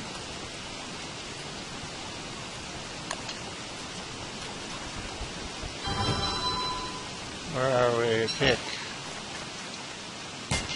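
Steady rain hisses across the whole scene in the Don't Starve: Reign of Giants video game, a constant broadband wash with a few brief louder game sounds and a short stretch of talk over it.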